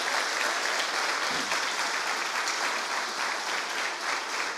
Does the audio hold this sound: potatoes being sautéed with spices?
no